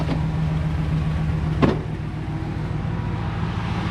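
A pickup truck with an exhaust leak runs steadily at idle on its first start of the morning, a constant low rumble with a brief sharp click partway through.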